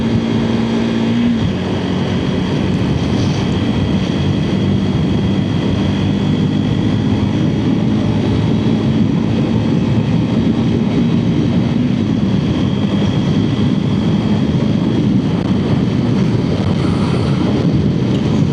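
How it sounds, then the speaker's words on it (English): Strong wind roars steadily outdoors, buffeting the microphone with loud, continuous rumbling gusts and no voices. "Yeah, windy out here."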